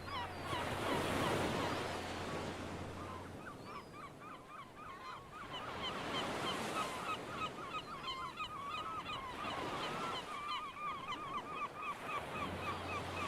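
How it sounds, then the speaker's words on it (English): Gulls call repeatedly over waves breaking on stones along the Oregon coast at Heceta Head Lighthouse, with surf swelling and receding in slow surges beneath the steady bird cries. "The sound of gulls and waves breaking on the stones"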